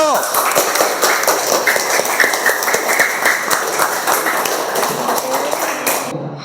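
Applause from a student class for a presenting group, many hands clapping in a dense, steady patter close by for several seconds before fading, with some voices mixed in.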